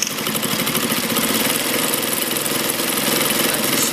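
An Atlas AT2284 sewing machine runs a three-step zigzag stitch with a fast, steady mechanical chatter, loud and close and unbroken throughout.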